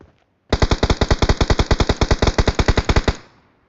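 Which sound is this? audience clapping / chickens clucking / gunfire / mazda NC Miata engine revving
gunfire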